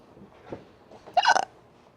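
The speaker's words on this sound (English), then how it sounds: "I kind of have hiccups." A person hiccups once, a short sharp burst after a faint earlier catch of breath, close and quiet in an otherwise still room.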